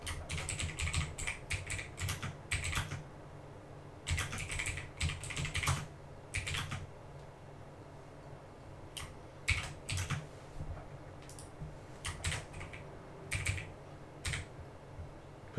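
Rapid bursts of typing on a computer keyboard, clustered keystrokes in short runs separated by brief pauses, close and fairly quiet with no voices.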